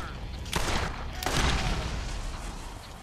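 Enemy gunfire in the Borderlands shooter game comes as two loud bursts of shots in quick succession, followed by a rumbling game background.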